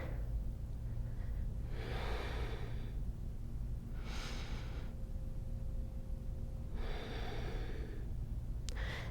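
Three close, breathy rushes of air, evenly spaced, come during a gentle third-trimester prenatal Pilates session. They are soft inhales and exhales over a quiet room, with no speech.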